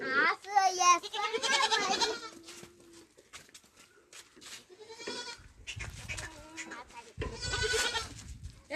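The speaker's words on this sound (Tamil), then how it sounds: "இதெல்லாம் எங்க ஆடு." Goats at a family home bleat among children and adults calling to them, with loud talk and shouts throughout and the animals' cries mixed into the busy, close-range noise.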